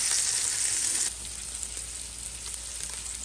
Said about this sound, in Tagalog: At yan guys, ang ating chicken thigh. So, i-fry natin side by side.